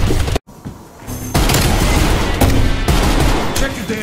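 Gunfire in the Call of Duty Cold War multiplayer game, loud dense bursts of rapid shots and booms in close succession after a brief sharp break, with speech faintly mixed in.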